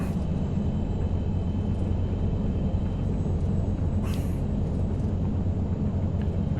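A turboprop aircraft engine in the flight simulator X-Plane 11 drones steadily and loudly at a constant pitch, an unbroken low hum with no voices over it.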